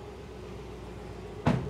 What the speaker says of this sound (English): optional extra, soft closed doors.